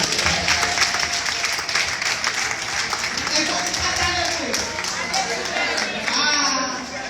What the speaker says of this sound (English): Clap for my husband